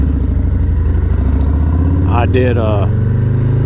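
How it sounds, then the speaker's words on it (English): A modded Harley-Davidson Low Rider S motorcycle engine idles steadily and close, a constant low rumble running the whole way under a man's speech. "current state is the bike is running fine."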